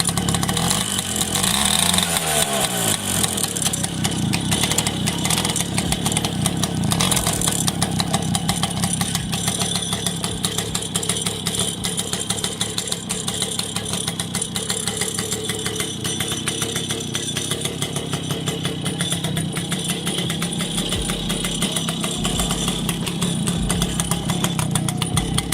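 A 1975 Solex Tenor GL moped engine idles close by with a steady, continuous buzzing putter that holds unchanged throughout, with no voices.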